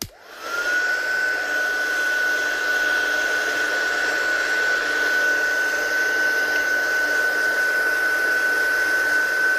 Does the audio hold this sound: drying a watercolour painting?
yes